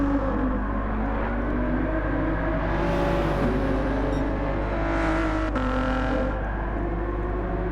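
Race cars in Gran Turismo 7 at Daytona drive side by side with a steady, loud engine drone, swelling at moments as the cars pass or accelerate.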